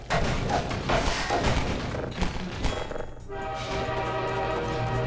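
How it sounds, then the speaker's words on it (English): A train rushing past with its horn blaring in the video game Half-Life 2, loud rumbling and clattering with heavy thumps, then a sustained horn tone that holds steady as the rush fades. "Holy shit, there's a train."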